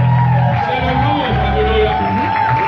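A church congregation shouts and cheers together loudly in worship, a dense wall of raised voices with whoops rising over it.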